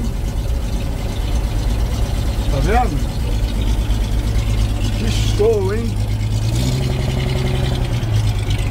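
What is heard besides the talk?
1946 crank-start truck engine running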